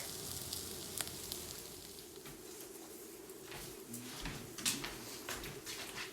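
Naan bread sizzling in a hot pan just after being flipped: a steady, faint frying crackle continues throughout with a few sharp ticks.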